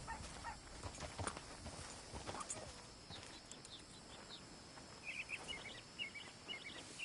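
Faint, quiet clip-clop of horse hooves on a dirt path in the open-world game Red Dead Redemption 2, irregular steps mixed with distant bird chirps and soft outdoor ambience.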